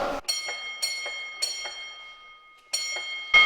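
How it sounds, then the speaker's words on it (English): Signal bells at a 900-foot hoist signal station in the Sterling Hill Mine, Ogdensburg, New Jersey, ring in a pattern: three bright metallic strikes in quick succession, a pause, then a single strike, each ringing on clearly. "that signal station at 900 feet is shown with 3 bells, 1 bell, and you'll proceed to ring them just like so"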